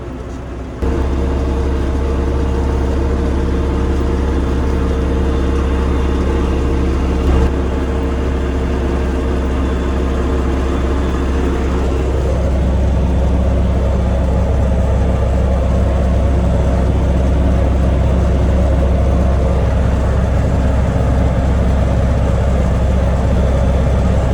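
Tractor discing a field on autopilot, a loud, steady diesel engine drone with deep low-frequency rumble heard from the cab, continuous and unbroken for the whole stretch, with a slight shift in load around the middle.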